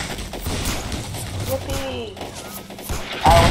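Video game war battle with artillery and gunfire: scattered booms and shots rumble under a voice talking, with a louder burst near the end.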